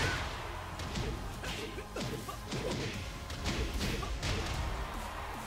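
Rapid game impacts from Hwoarang's screw attack in Tekken 7 land as a flurry of thuds, whooshes and smacking hits, dense and layered over a busy fighting-game backdrop.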